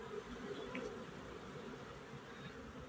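Honeybees crowding the entrance of a hive in an apiary, a steady continuous buzzing hum from many bees close by, with no talk.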